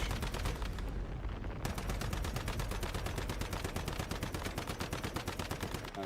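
Rapid, continuous gunfire in the Warhammer 40K Rogue Trader video game, a dense steady stream of shots with no pauses, loud and constant throughout.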